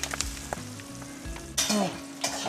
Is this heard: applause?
no